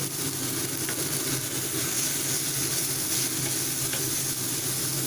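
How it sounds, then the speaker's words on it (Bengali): Potatoes and chickpeas for a chaat sauté in a pan with cumin powder and a pinch of sugar. The sizzle is steady, close and even, with no talk over it. "এবার একটু ভাজা ভাজা করে নিচ্ছি"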